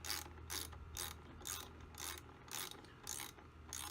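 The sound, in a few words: ratchet tightening nut on RV trailer battery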